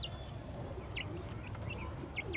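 Hybrid Sonali chickens on a farm give a few faint, scattered clucks and chirps over low background noise.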